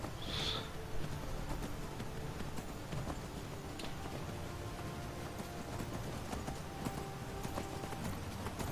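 Steady clip-clop of horse hooves at a riding pace continues throughout in a Skyrim-style video game, with a brief whinny-like tone early and a constant background ambience.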